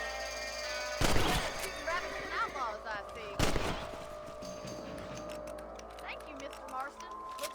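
Gunfire in Red Dead Redemption as varmints are shot: two sharp, loud shots a couple of seconds apart, each ringing out briefly, amid game ambience and voices talking.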